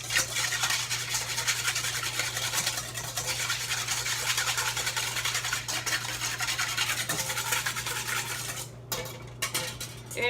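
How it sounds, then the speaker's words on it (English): A whisk works BBQ sauce ingredients together in a bowl, giving a continuous scratchy, rhythmic stirring and clattering close up, steady throughout with no talk. "whisk that together."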